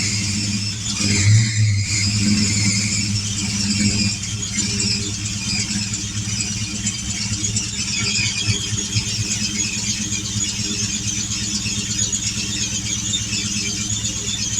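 A 1990 Ford Mustang LX engine idles steadily, a close, continuous rumble with a faint whine and no talking.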